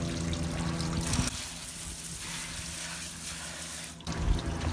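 A steady spray of running water hisses as a boat engine is rinsed, briefly cutting out before resuming with a splashing rush, close and fairly loud.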